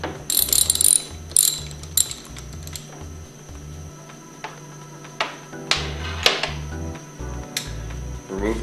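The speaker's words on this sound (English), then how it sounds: "taking your 9/16 socket and removing the nuts" A 9/16 socket ratchet clicks in quick bursts while removing nuts from a HYPRO 2400 plunger pump, with metallic rattles and brief pauses between runs of close, sharp pawl clicks.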